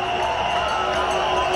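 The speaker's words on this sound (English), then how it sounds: "And he has brought the crowd to their feet," A cricket crowd at a West Indies versus Australia Test match, rising to cheer Ramnaresh Sarwan reaching his century, a broad sustained roar and buzz filling the ground at steady loudness.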